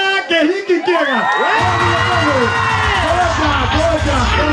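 An audience at a live event with an MC cheers and whoops loudly, a burst of excited crowd shouting and voices rising together, with children audible among them.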